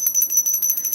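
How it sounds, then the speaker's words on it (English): A small altar bell rung rapidly, giving a bright, high metallic tremolo of fast repeated strikes with a sustained shimmering ring, loud and close with no talking. "My little altar bell, you know."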